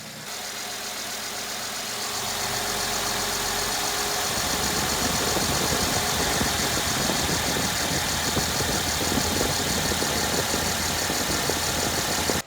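A Mercedes-Benz ML350 engine idles steadily just after its tensioner and idler pulleys were replaced, a continuous close mechanical hum with faint ticking that settles after startup and runs alone without talk.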